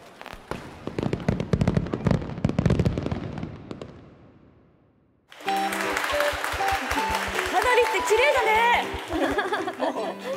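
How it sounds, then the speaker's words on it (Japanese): Voices talk at first, then after a brief lull a rapid series of fireworks bursts crackles and pops, with bright whistling tones over a rhythmic thumping. "花火って綺麗だね"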